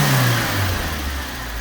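A Suzuki Swift's engine revs roughly with an uneven, misfiring note, a steady close-up drone that dips and wavers throughout without any talk.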